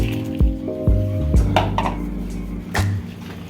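Bacon is tipped back into a simmering pan of fideo (Mexican vermicelli): a few clanks of utensil on pan and wet, squishy stirring over a low, steady sizzle, close by and moderately loud.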